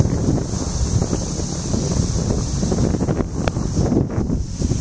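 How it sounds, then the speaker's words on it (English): Strong wind buffets the microphone on a small boat out on an open lake, a loud, continuous roar with gusting rumble and faint water sounds beneath. "this wind is really blowing me in"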